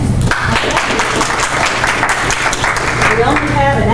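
An audience breaks into sustained applause to welcome a speaker at a healthcare talk on emotional intelligence, a dense, steady wash of clapping lasting about four seconds.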